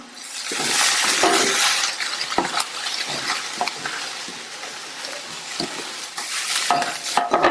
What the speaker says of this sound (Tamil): இட்லியை சேர்த்துட்டு மிதமான தீயில வச்சுட்டு நம்ம அரைச்ச இந்த தேங்காய் பொடியை கொஞ்சம் கொஞ்சமா எடுத்து தூவி விட்டு மிக்ஸ் பண்ணிக்கணும்